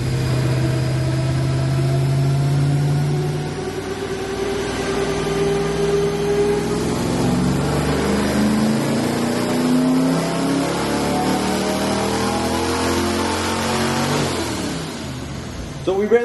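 A small-block Chevy stroker V8 with a Holley 750 carburetor runs loud on a dyno, its engine note climbing steadily through a long, continuous pull before easing off at the end.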